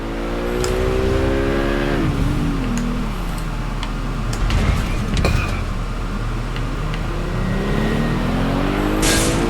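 A stolen car's engine drives in Watch Dogs Legion, its tone rising and falling as it accelerates and shifts, loud and steady, with creaks, ticks and a bump midway.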